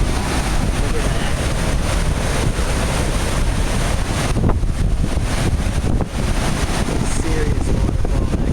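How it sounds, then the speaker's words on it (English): Lower Falls waterfall in the Grand Canyon of Yellowstone, a loud, steady rushing roar of falling water, constant throughout with heavy wind buffeting on the microphone. "Serious waterfall actually."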